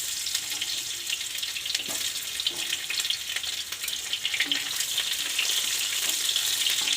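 Chopped onion frying in oil in a pan, a steady, close, continuous sizzle and crackle with no one talking.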